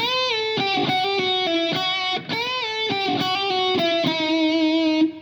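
Electric guitar with heavy distortion playing a riff, a sustained melodic line of ringing, harmonically rich notes stepping in a steady rhythm, loud and close, with no talk.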